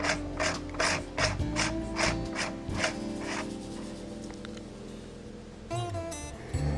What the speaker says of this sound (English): And then just put the shroud, and then tighten down the moderator.